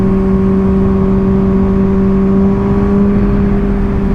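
A Honda CBR 600RR sportbike cruises along on a snowy ride, its engine holding a steady droning tone with strong wind rush, close and continuous.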